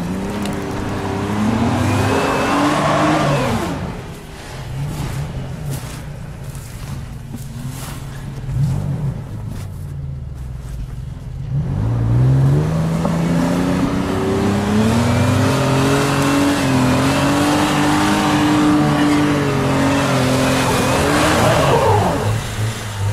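Revving car engine, likely a pickup or off-road vehicle such as a Ford Ranger, Toyota Hilux or Niva, roars loudly with rising and falling pitch through repeated throttle bursts, dipping briefly in the middle before building again.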